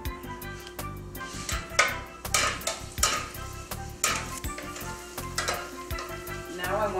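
Chopped garlic sautés in olive oil in a pot, a bright crackling sizzle punctuated by repeated scrapes and clacks of a spoon stirring against the metal; close and clear, no talking.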